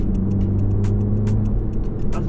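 A 2022 Honda Civic 11th gen with a Stage 1.5 tune accelerates, its engine a steady mid-pitched drone heard from the cabin amid rhythmic ticking and rattles, no voices.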